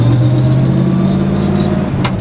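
A 1957 GMC 100 Napco 4x4 truck engine drones steadily and loudly up close while driving, a deep even hum with a brief shift in tone near the end.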